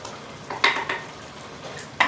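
Chopped tomatoes going into a hot pan for paleo chili: a low background sizzle broken by a few sharp scraping and clinking stirs of a utensil against the pan, close up with no talking.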